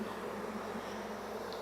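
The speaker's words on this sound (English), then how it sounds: "There's a lot of bees in here." Bees swarm inside an opened hive during a late-season requeening check, giving off a close, continuous droning hum that stays even and steady throughout.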